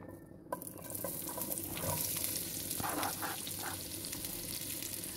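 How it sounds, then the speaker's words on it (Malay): Sliced onions and garlic hit hot cooking oil, and a quiet pan suddenly bursts into a strong, continuous sizzle, with light stirring and scraping sounds on top. "Masukkan irisan bawang besar dan juga bawang putih."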